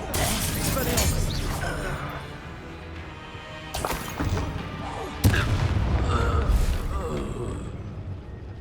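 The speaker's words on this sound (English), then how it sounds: "Expelliarmus." The Expelliarmus spell cast in the PS5 Pro version of the video game Hogwarts Legacy, heard as sharp magical bursts and booming impacts amid busy combat effects, with a voice speaking over the action.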